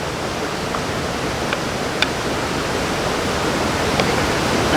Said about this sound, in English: It's boiling up nicely now